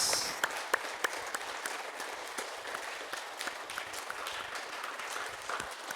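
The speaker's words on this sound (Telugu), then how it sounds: "So ధ్యానంకి claps." Moderately loud audience applause fills a class session, a continuous dense patter of hands with a few sharper claps standing out, and no talk over it.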